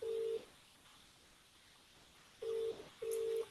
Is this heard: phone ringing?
yes